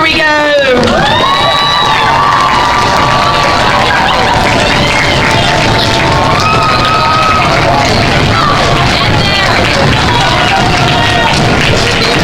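A school crowd at a Locks of Love head-shaving and haircut event cheers and shouts loudly, with excited children's voices and babble filling the whole stretch, a few whistling calls rising over the steady roar.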